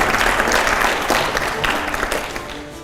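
Audience at a public talk applauding loudly, with sustained clapping across the whole stretch that eases slightly toward the end.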